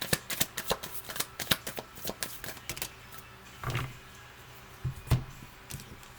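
Tarot cards being shuffled by hand, a fast run of crisp riffling clicks and flutters, then quieter pauses broken by a few soft slaps of the deck, close and alone.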